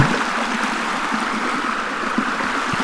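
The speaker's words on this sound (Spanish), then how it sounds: "por aquí baja mucha agua" Rainwater runs down a road along the Camino Portugués Central, a steady, close rush of flowing water that continues without pause.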